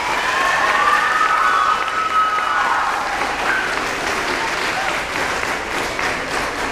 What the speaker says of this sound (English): she deserves a round of applause, and they deserve a round of applause